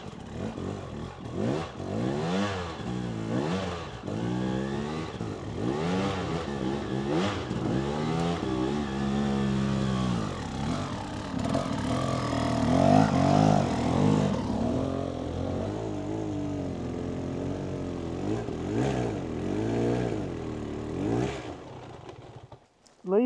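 A trail motorcycle such as a Yamaha WR250R, KTM or Beta revs hard climbing a steep, rutted hill, its engine note rising and falling in repeated surges over about twenty seconds before cutting off.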